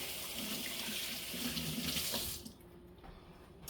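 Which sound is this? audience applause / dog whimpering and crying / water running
water running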